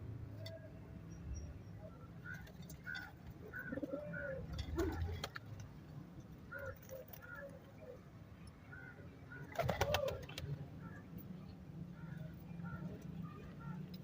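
Soft coos from sick pigeons repeat at intervals close by, low and murmuring, with faint background noise and a brief louder rustle partway through.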